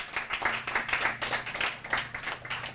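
Small poetry night crowd claps for the poets, a steady patter of individual hand claps at moderate volume with no talk over it.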